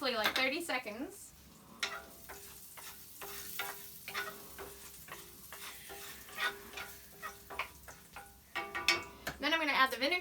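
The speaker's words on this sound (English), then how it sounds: "Then I'm going to add the garlic to the pan. I'm going to just cook it really briefly, like 30 seconds." Garlic sizzles in a frying pan while pork chops are cooked, a steady close hiss with a utensil stirring and scraping throughout; a voice speaks briefly at the start and end.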